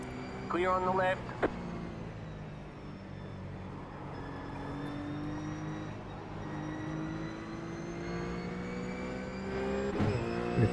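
A race car in iRacing at Donington sweeps past with a short burst of rising engine whine, then a steady droning engine note continues, with voices briefly present.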